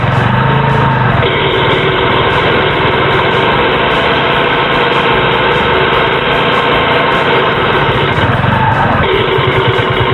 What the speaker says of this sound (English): you can hear it hammering. That's metal on metal in the back end of the bike